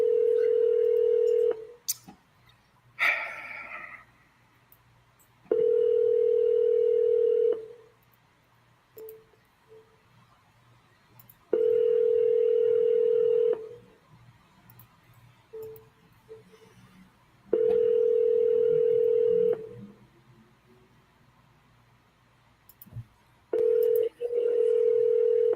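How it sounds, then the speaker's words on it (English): A telephone ringback tone on a cold call repeats in long steady bursts with silent gaps between, about five cycles, with brief faint clicks and rustles in the pauses. "the never-ending ringtone"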